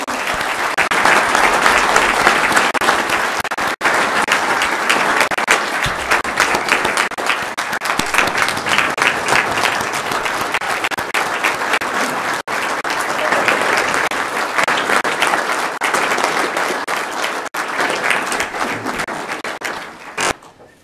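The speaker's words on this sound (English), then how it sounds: "I think we need to give Jenny a round of applause" Sustained applause from an audience at a county swearing-in ceremony, honoring a woman named Jenny; steady dense clapping for about twenty seconds with faint voices underneath, tapering off at the end.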